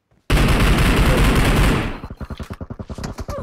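Gunfire from a PUBG Mobile video game as two enemies are shot: a sudden loud, dense burst of sustained automatic fire, then a rapid series of separate evenly spaced shots that tapers off.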